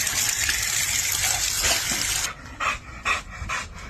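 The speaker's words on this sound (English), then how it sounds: "they're drinking the water" American Bully dogs drinking, their wet lapping and slurping heard under a loud rush of running water, with the flow cutting off midway to leave distinct rhythmic laps up close.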